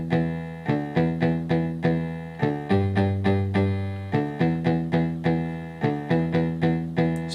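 A bass line for a TV theme is played live on a Yamaha keyboard. Repeated plucked, buzzy notes keep a brisk galloping rhythm, with the pattern dropping to a lower held note midway before resuming.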